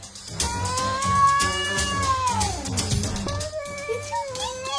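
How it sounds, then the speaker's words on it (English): A cat yowls and meows in long, drawn-out, wavering caterwauls, loud and close, one cry gliding down and later shorter rising calls. "It's a kitty!"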